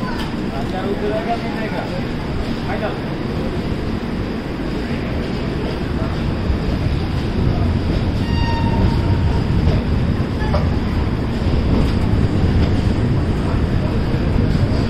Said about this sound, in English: So the train is leaving.